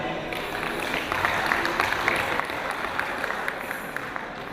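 Scattered audience clapping at a Sir Syed Day university alumni gathering in Qatar, a loose crowd patter with individual sharp claps standing out, moderately loud and continuous.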